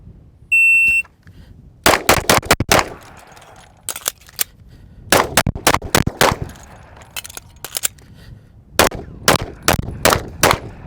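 Pistol shots during a reload drill on an outdoor range, sharp close reports in quick strings separated by pauses, after a brief electronic start beep.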